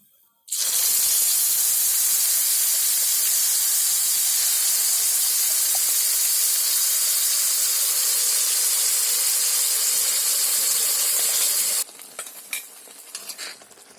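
Spice paste hits hot oil already holding toasted bay leaf and cumin for a broccoli sabzi, bursting into a loud, steady sizzle over a high gas flame that runs unbroken for about eleven seconds before dropping to quieter crackles.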